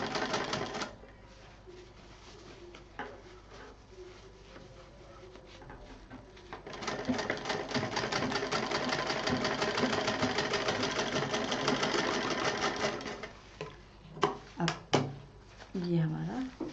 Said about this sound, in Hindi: इसको भी सफाई के साथ सिल दें। जिप का जो मेन पार्ट है उस पर मशीन नहीं जानी चाहिए।